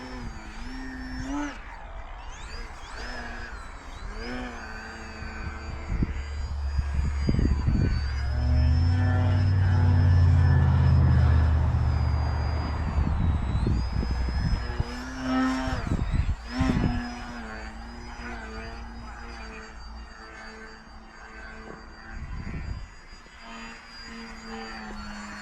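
A Value Hobby 43-inch AcroCub radio-controlled model airplane flies overhead, its electric motor buzzing and whining as it passes, swelling to a loud close pass in the middle, then fading and changing pitch with throttle changes, with no talk.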